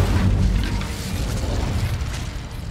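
The Incendio fire spell erupts in Hogwarts Legacy as a loud, dense whooshing burst of roaring flame that holds steady for a couple of seconds close up.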